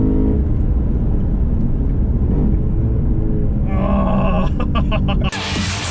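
A 2015 Lexus RC F with its 5-litre V8 roars loud and close with a deep, steady rumble, rising in pitch toward the end before a sudden cut to a different sound.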